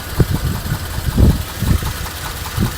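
A van engine idles roughly nearby, with uneven low thumps and knocks pulsing every half second or so.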